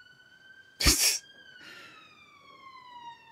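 An emergency siren wails outside as it passes, its pitch sliding down as it moves away. A sharp, loud sneeze close by briefly cuts across the siren.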